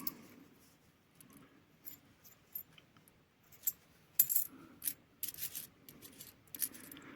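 Old Soviet-era coins found in a forest clink and rattle as they are handled and sorted, with scattered sharp metallic taps and brief jingles between quiet pauses, close and fairly soft.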